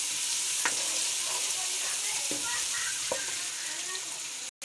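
Garlic, green chillies, coriander and cumin sizzling in a pan with fried onions, a continuous hiss of frying at moderate level with a few sharp stirring clicks, ending abruptly.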